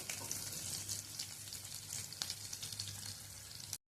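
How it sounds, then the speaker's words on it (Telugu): Onions and tempering spices frying in oil over a medium flame for a spinach dal, a steady dense sizzle running without pause for nearly four seconds before cutting off abruptly. "మంటను మీడియం ఫ్లేమ్లో పెట్టుకొని పోపుని బ్రౌన్ కలర్ వచ్చినంత వరకు వేయించుకోవాలండి"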